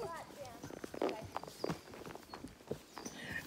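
Horse hooves clop unevenly on the ground at a slow walk, fairly quiet, while people talk over them.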